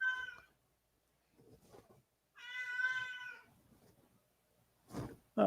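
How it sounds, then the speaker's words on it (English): A hungry cat meows several times, with two clear drawn-out cries and a louder short one near the end, heard close by and alone, with quiet gaps between the calls. "Oh, see a cat over your shoulder. Cat's hungry."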